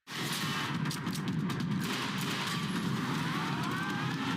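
Sustained gunfire laying down cover fire in a scene from the TV series Reacher, a dense, continuous roar of shots with mechanical clatter, loud and steady throughout with no talk.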